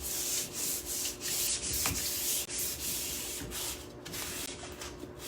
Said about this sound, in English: I'm just going to take my sandpaper. This is a 220 grit that I'm using